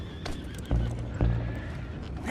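Two quick, sharp clip-clops of horse hooves land in Red Dead Redemption 2, with a horse whinnying softly behind them in a short burst.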